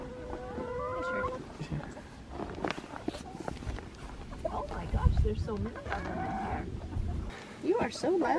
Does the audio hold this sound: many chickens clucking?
yes